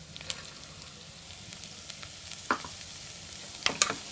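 Green beans stir-fried with moong dal in hot oil, a soft steady sizzle with occasional spoon scrapes and light clatters against the pan, faint and close.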